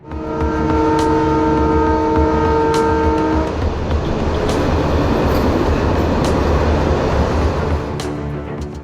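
A Karachi Circular Railway local train running on the main line between City Station and Pipri sounds a loud sustained multi-tone horn for several seconds, then rumbles and clatters past close by with rhythmic wheel clicks.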